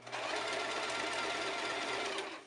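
A sewing machine stitches steadily onto a Halloween costume dress, a close, continuous mechanical whir that runs without pause for the whole stretch, with no talking.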